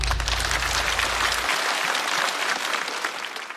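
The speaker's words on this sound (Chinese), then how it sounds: "再次掌声。" Audience applause at a stand-up comedy show, a dense, sustained wash of many hands clapping that holds steady, then tapers slightly toward the end, with a low hum underneath for the first part.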